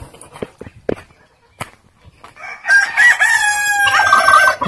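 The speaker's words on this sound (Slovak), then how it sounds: "Práve ste počuli kikirikanie" A Leghorn rooster crows loudly and close by, a long ringing call in the second half, preceded by scattered short clucks and farmyard noises from hens, geese and turkeys.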